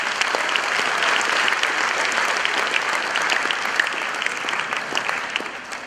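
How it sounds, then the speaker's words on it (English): Steady, even applause from a large audience at a model UN conference opening ceremony, honoring the officials, dense clapping throughout that eases slightly toward the end. "May we please have one more big round of applause for our officials."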